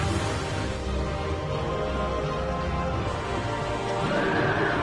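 Horses pulling the Executioner's Chariot in Dark Souls II whinny and neigh over a dense, steady game soundscape, with clattering hooves mixed in, loud and continuous.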